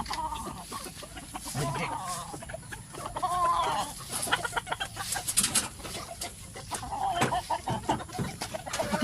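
Chickens on a small farm cluck and murmur continuously up close, with overlapping calls from several birds and some rustling around them.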